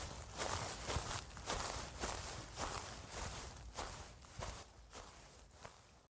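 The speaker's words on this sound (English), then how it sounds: "As I walked slowly along the woods, I heard footsteps that matched my own." Slow, steady footsteps walking through the woods, each crunching step of the forest floor loud and close, falling at a regular pace of roughly one per second.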